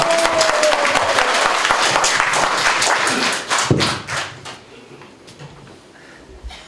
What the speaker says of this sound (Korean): 뜨거운 환영과 격려의 박수를 부탁드립니다